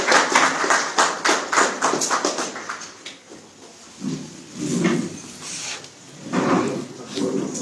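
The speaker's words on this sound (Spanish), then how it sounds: "con el aplauso de todos los presentes" Applause at the inauguration of the ICATICANA Argentine-North American binational cultural centre in Catamarca: a burst of fairly close, sharp claps from a small gathering over the first few seconds, then fading into a murmur of talk.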